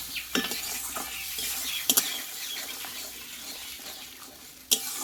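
Ground spice paste with white melon seeds and a splash of water being stirred and fried in a pan for a vegetarian pointed gourd dish, with a soft ongoing sizzle broken by a few sharp spoon scrapes and knocks against the pan.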